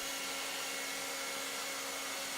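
A hair dryer runs steadily while heating window insulation film to seal it, giving a constant, even whir with a faint tonal hum.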